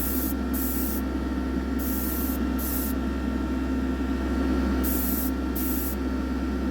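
A compressor-fed airbrush sprays paint onto a diecast car in short hissing bursts, four or five separate sprays, over a steady compressor hum.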